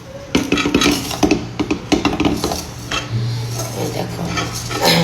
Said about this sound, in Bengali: আমি এই কড়াই দেখাবো।